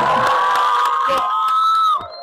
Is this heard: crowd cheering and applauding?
yes